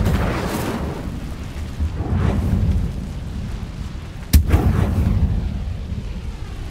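Spells cast in the video game Hogwarts Legacy, including the Incendio fire spell: soft whooshing swells followed by one sharp, loud burst of fire and a rumbling tail, with no talk over it.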